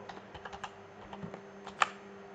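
Code is typed on a computer keyboard, a close run of quick irregular key clicks with small pauses and one sharper louder keystroke near the end.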